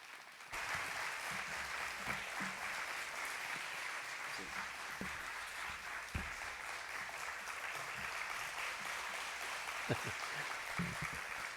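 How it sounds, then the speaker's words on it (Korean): A church congregation at a Friday evening worship service claps to welcome a pastor to the pulpit, a dense, steady round of applause filling the room for several seconds, with a few louder claps standing out near the front. "큰 박수로 환영해 주시면 감사하겠습니다"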